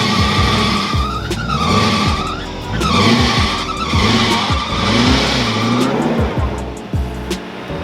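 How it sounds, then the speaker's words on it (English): A Land Rover Defender 90 reversing off-road on a green lane, its engine running loud and close for the whole stretch with changing pitch and strained, scraping tyre noise as it creeps backwards. "put it in reverse and then just like gently let the engine do it"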